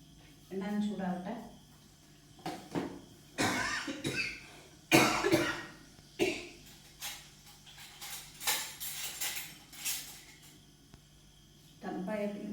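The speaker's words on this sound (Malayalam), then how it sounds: "തണുപ്പായ പിന്നെ ചെറിയ ചുമയുണ്ട് കേട്ടോ." Several dry coughs from a person with a slight cold in a home kitchen where fish-fried oil is heating, coming in short bursts spread across the clip, fairly close and moderately loud.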